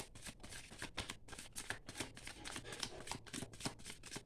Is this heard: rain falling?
no